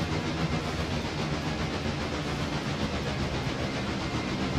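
A four-cylinder steam locomotive in the train game Railroader gives a steady, loud, continuous chuff and hiss with no break, close and alone.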